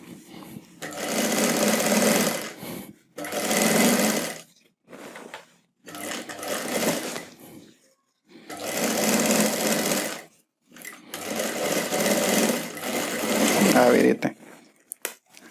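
A sewing machine stitches a seam beside a hidden zipper on a readymade skirt, running in five or six bursts of a few seconds each with short pauses between, close and clear while someone talks between runs.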